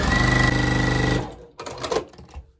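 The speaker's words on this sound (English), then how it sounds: "And I will go ahead and sew this down through here." A sewing machine runs fast and steady, stitching a jelly roll quilt, then stops. The fabric is shuffled and repositioned afterward.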